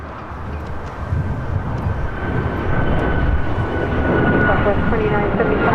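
A JetBlue jet rolls for takeoff on runway 25 right at LAX, a loud, steady engine roar that builds and stays strong throughout, with faint radio chatter underneath.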